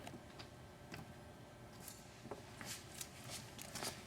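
Several quick strips of tape are torn off a roll while a windshield is fitted to a Yamaha Viking UTV, heard as faint, sharp rips spaced irregularly in a quiet space, with no talking.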